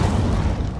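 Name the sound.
Incendio fire spell in video game Hogwarts Legacy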